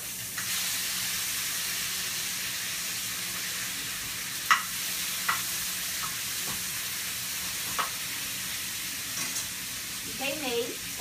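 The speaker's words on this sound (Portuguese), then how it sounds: "Aqui eu tô fazendo bacon. O bacon é de açúcar mascavo." Brown sugar bacon fries in a pan with a steady, loud sizzle that fills the clip, broken by a few sharp clicks and scrapes as it is stirred, and a brief voice near the end.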